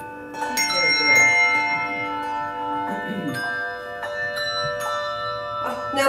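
A hand bell struck during a bells class, ringing out with several clear metallic strikes whose tones sustain and overlap, close and moderately loud, with faint background voices.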